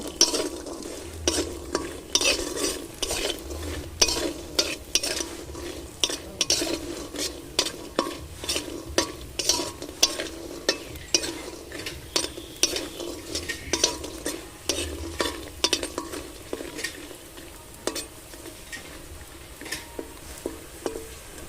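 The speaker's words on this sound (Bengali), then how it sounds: "বড়িটা এবার লাল লাল করে ভেজে নেব।" Lentil bori frying in oil while being stirred, a long sizzling hiss broken by rapid, irregular scrapes and clicks of a spatula against the pan, close and continuous with no talking.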